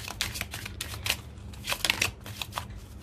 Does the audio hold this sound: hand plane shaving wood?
no